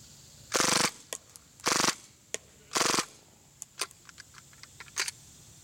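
An HFC T77 gas blowback airsoft gun fires on full auto in three sharp, loud rattling bursts, followed by scattered lighter clicks and taps as the magazine runs dry.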